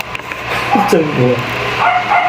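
A dog gives a couple of short yelping barks amid a noisy outdoor scene, with people talking loudly around it.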